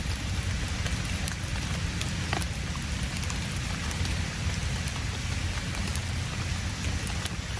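Rain falling outdoors on bushcraft survival gear beside a campfire, a dense, steady patter of drops hissing continuously at close range with no voices.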